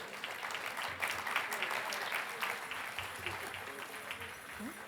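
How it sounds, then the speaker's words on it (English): Audience at a union congress session applauding, a dense steady wash of clapping from a large hall, fairly faint and distant throughout. "let's give ourselves a round of applause"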